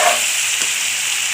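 Tomatoes and coriander frying in a pan in a home kitchen, giving a steady close sizzle throughout with a soft stir-like scrape midway and no talking.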